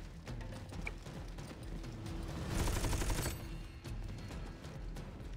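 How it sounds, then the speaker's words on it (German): Rapid gunfire hitting a car in the shooter game Army of Two: The Devil's Cartel, a dense rattling fusillade with a louder burst in the middle, under game ambience. "jetzt schießen sie wieder aufs Auto und dann explodiert das"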